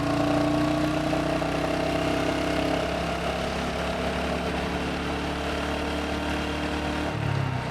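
A 2025 Royal Enfield Hunter 350 motorcycle engine holds a steady mid-pitched drone under throttle while riding, running evenly and fairly close, with a deeper rumble near the end.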